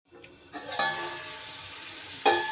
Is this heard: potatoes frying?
yes